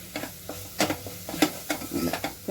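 Chickpea masala curry fries in a pan while a spoon stirs it in quick, rhythmic scraping strokes, each pass bringing a short burst of sizzle up close.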